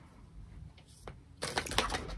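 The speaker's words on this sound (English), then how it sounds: "Let's keep shuffling." Tarot cards being shuffled by hand, a soft papery riffling that swells into a louder burst of rapid flapping near the end, close and alone without talking.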